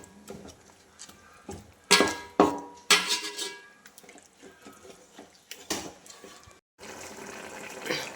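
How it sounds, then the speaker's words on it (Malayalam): Hot water poured into a pan of marinated chicken curry: several loud clanks of pot and utensil, then a steady rushing splash of water filling the pan, close by. "നന്നായിട്ട് ചൂടുവെള്ളം കുറച്ചൊഴിക്കുക"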